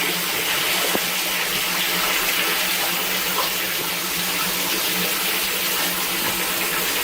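Steady rainwater pours continuously out of a French drain pipe, a constant close gush with no breaks.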